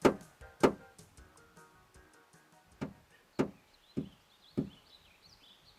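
Light taps on a car door for a tap-code unlocker: a series of sharp, isolated knocks spaced irregularly, fairly close and clear against a quiet background.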